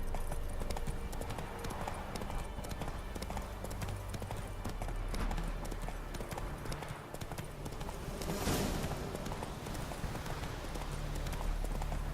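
A horse galloping in the video game The Witcher 3, with a fast steady clip-clop of hooves running throughout over a continuous background wash, and faint speech at one point.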